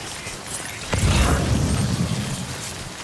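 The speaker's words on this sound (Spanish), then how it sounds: "No va a dejar de llover, tío." Rain pours in the video game Death Stranding as a steady broadband hiss, swelling louder about a second in with a dull low rumble beneath and continuing without pause.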